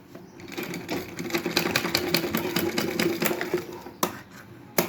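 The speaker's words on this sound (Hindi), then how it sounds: "तो ये मैंने चारों तरफ सिलाई लगा ली" A sewing machine runs a continuous stitch around the edge of a handmade indoor slipper before its strap is attached, a steady close mechanical whir that halts near the end, then gives one more brief burst.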